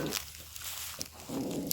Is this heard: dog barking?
yes